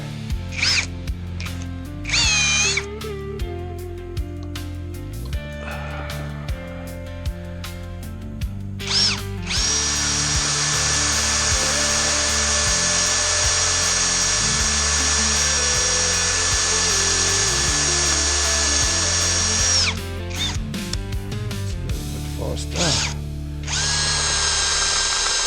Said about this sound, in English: Almost there, and the drill bit is blunt again.